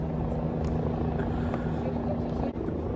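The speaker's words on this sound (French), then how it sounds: "Ah, il y a des hélicoptères. Bon, je vais attendre qu'il passe." Helicopters passing overhead as a steady, continuous rotor rumble that fills the whole stretch without fading, with a faint voice underneath.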